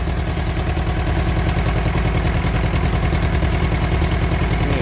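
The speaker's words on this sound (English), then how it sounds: "at least the engine fired up" A camper van's engine idles just after starting, a steady, loud, rough mechanical chug with a fast rhythmic knock running through it, close by and with no talking.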